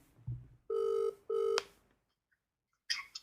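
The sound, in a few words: telephone ringing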